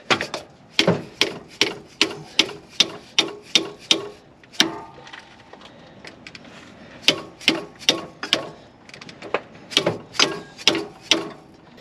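Repeated ratcheting clicks from a ratchet wrench turning the harmonic balancer bolt on a 1966 Ford F100's 302 V8, loud bursts of rapid strokes in two runs separated by a brief pause with faint shop noise.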